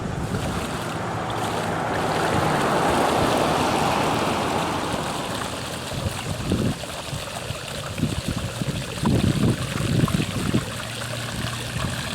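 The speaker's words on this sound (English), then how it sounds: "now we go and open the solar drain valve" Water gushing out of an opened solar drain valve on a backyard swimming pool as it is prepared for closing: a loud, steady rush that later turns into uneven splashing and gurgling bursts, close by, with no voices.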